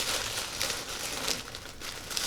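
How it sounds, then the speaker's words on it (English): Someone carefully rips open the top of a mail package, giving a close, quiet crinkling and rustling of packaging material that comes in a few small bursts with no voices. "I'm going to rip open the top, and see if I can slide stuff out."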